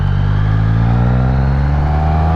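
Engine of a 2013 Triumph Speed Triple motorcycle while riding, a loud steady drone with layered low harmonics that rise slightly in pitch, continuous throughout with no talk.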